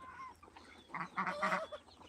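Native desi ducks on a farm let out a short burst of loud, nasal honking calls, several overlapping in quick succession near the end after a quieter start.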